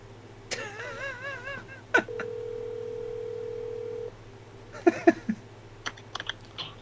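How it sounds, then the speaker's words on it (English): A phone call is placed: a warbling ring sounds in bursts, a steady dial tone holds for about two seconds, then quick dialing beeps and clicks follow, close and fairly quiet. "Rusty, do you have a moment for a phone a friend that we just pulled?"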